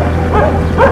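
Dog in a Philippine barangay during a house-to-house visit, giving two short yelping barks close by and loud over low background hum.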